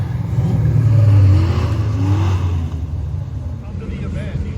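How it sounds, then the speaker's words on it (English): Three Fox body Mustangs cruise around at a cars-and-coffee meet, a loud, close engine rumble rising in a rev, then easing off into a steadier drone with some background voices. "3 Fox body Mustangs riding around"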